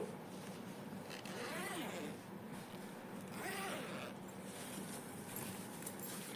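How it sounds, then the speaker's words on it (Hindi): A handbag zipper runner is slid open and then closed on fabric during bag stitching. Two quiet, raspy zipping strokes come a couple of seconds apart against a soft, steady room hiss. "रनर को इंसर्ट करने के बाद हम एक दो बार इसको ओपन करेंगे एंड क्लोज करेंगे।"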